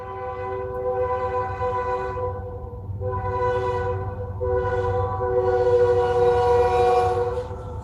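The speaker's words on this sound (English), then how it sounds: "there's a train again." A train rumbles past nearby as its horn blows in several long, loud blasts that rise and fall.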